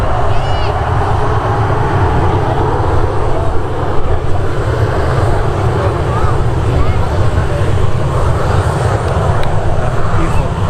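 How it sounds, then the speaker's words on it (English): Easyjet Airbus airliner taking off at Manchester Airport, a loud, steady broadband engine roar lasting throughout, with people talking over it. "Good short takeoff there by Easyjet's flight"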